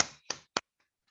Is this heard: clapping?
yes